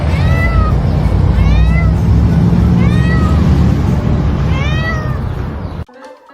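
A cat meows repeatedly in rising, drawn-out calls, loud and close over a steady low background hum, before the sound cuts off abruptly near the end.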